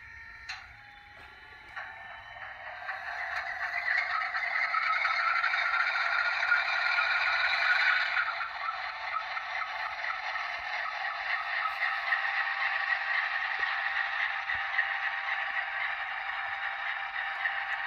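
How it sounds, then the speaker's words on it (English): A model diesel locomotive's sound system starts up with a few clicks, then a mid-pitched engine drone that swells and settles into a steady, slightly fluttering idle, heard alone at a modest level. "let's start her up"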